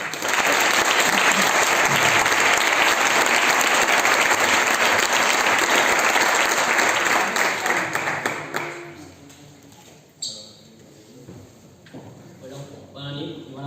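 A loud, dense round of applause welcomes a speaker at a Falles 2020 booklet presentation in Plaça del Cid. The clapping stays full for about eight seconds, then fades into scattered claps and a few voices.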